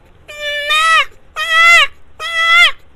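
A person imitates a goat bleating, giving three loud, drawn-out wavering bleats of about a second each, evenly spaced with short pauses between them.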